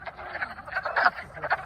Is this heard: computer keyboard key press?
no